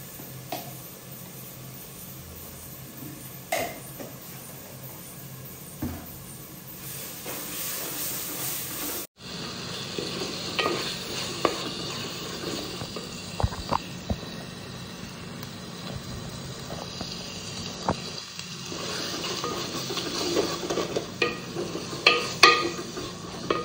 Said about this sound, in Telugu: అల్లం వెల్లుల్లి పేస్ట్ వేగింది, ఉల్లిపాయ పచ్చిమిర్చి వేగింది